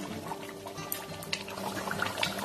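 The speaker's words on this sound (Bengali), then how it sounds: "এক চামচ গোলাপ জল দিয়ে দিচ্ছি, এক চামচ কেওড়ার জল দিয়ে দিচ্ছি।" A spoonful each of rose water and kewra water trickling into a pot of mutton rezala: soft, faint splashes and dribbles over a low background.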